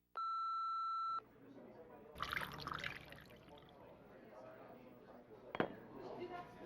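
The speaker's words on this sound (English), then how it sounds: "leave your message after the beep" A single sustained electronic answering machine beep of about a second, then a voice speaking over faint background noise with a sharp click partway through.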